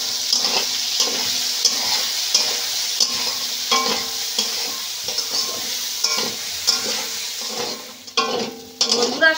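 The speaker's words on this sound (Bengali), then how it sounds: "দিয়ে আমি সয়াবিনটা ভালো করে ভেজে নেব" Soybeans fry in a pan with turmeric and salt, giving a steady sizzle broken by repeated stirring scrapes of a utensil against the metal pan.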